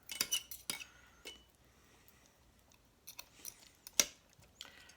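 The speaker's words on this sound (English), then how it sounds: "I'm just kind of loosely shredding, making big chunks out of this" Forks loosely shredding cooked chicken into big chunks for a creamy Italian chicken dish, giving a few sharp metallic scrapes and clinks near the start, a quieter stretch, then more scattered scrapes toward the end, close and without talk.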